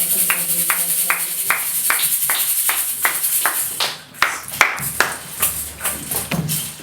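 Rhythmic clapping from a church congregation during a Sunday service, steady beats that grow into a looser, louder stretch of applause and cheering.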